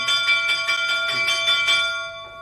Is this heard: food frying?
no